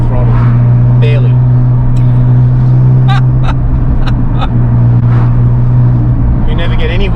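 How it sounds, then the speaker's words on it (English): A modified 750hp Porsche 911 997 Turbo engine at light throttle, a steady low droning hum running under the whole stretch, with a few short clicks and a voice talking over it. "Wants to go, and I was barely tapping the throttle, barely."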